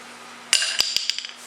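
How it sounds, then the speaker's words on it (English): A tiny hammer strikes an impact Phillips driver on a 1965 Yamaha Campus 60 motorcycle, giving one sharp metallic clang and then several quicker ringing taps, heard close and alone. "Now we'll try whacking it with a tiny hammer here."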